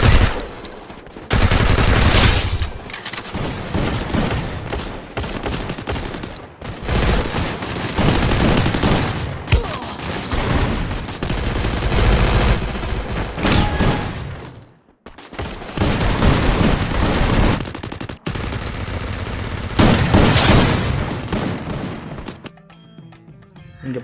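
M10 gun in the Free Fire video game firing in the training room, loud rapid bursts of automatic gunfire in several long strings, separated by short silent gaps.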